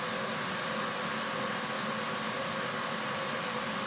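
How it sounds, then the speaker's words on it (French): Cooling fan of a Blackview Oscal PowerMax 3600 power station during a full charge, a steady loud whooshing blow with a faint constant whine, close and unchanging. "on a une ventilation forte directe"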